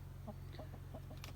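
Chickens in a Sentinel coop from Tractor Supply give soft, scattered clucks and short calls, with a few brighter chirps near the end, over a steady low hum.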